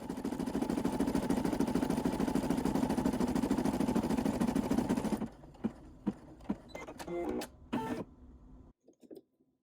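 An embroidery machine stitching an appliqué top stitch, a loud, steady mechanical hum with rapid needle chatter for about five seconds, then stopping into scattered clicks and thumps before silence.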